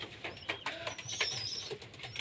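Young pigeons in a loft during winter, giving soft coos and bursts of wing flapping, close and fairly quiet, with no talk.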